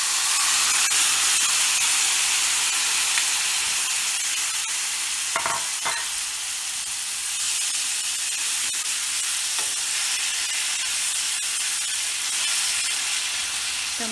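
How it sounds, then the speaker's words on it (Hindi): Chopped tomatoes fry in a pan for a tomato chutney, giving a loud, steady, hissing sizzle throughout with a few short clicks of stirring along the way. "और अब टमाटर जो कटे हुए हैं वो डाल रही हूँ।"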